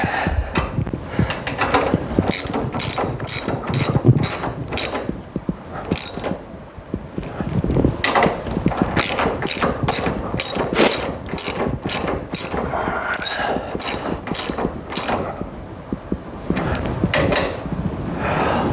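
Rapid ratchet clicks tighten the lower bolts of KYB shock absorbers on a Mustang, coming in repeated close, loud bursts of clicking separated by short pauses.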